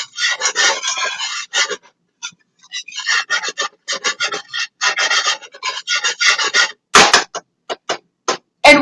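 Flour is stirred in a pan over medium heat, giving close, dry scraping strokes in quick irregular bursts with short pauses between them.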